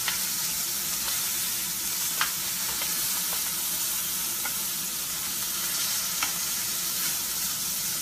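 Pork tenderloin sears in a hot pan with a steady, dense sizzle and hiss, close and fairly quiet, broken by a few soft clicks of the meat being turned.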